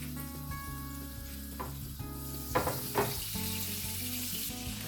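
Butter added to hot oil in a frying pan for lemon garlic butter sauce with salmon, a steady close sizzle with a few louder spitting bursts midway, under background music and no talking.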